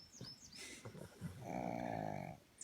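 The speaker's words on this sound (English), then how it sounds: "and a snoring pug" A pug snoring outdoors in a shady spot at a national park, one long rumbling snore near the end, with birds chirping in the background.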